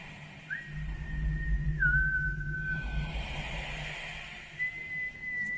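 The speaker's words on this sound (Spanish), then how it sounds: "de nuevo escuchó ese silbido" An eerie whistle drifts through a horror story, a thin, long sustained tone that slides and dips, falls quiet, then returns, over a low rumbling background.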